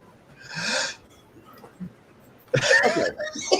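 Person at a tabletop gaming session coughing and laughing together, a short breathy burst followed after a pause by a louder, rougher spluttering fit of coughs and laughs close to the microphone.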